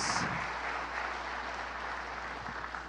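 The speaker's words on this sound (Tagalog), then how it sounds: "Atong hatagan og palakpak ang atong buhi nga Dios." A church congregation claps steadily during a worship service, a dense wash of applause that holds at an even, fairly loud level from start to finish with no voices over it.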